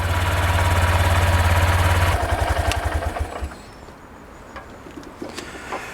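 A Honda CB125F motorcycle engine idles with a steady, close, pulsing throb, then shuts off and sputters to a stop, leaving quiet clicks and faint ticks afterward.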